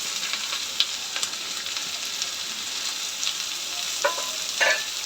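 Onions, ginger and garlic sautéing in a pan for chicken masala, with bay leaves and curry leaves, give a steady close sizzle and frying crackle throughout, with a few sharper pops and stirring scrapes and no talk.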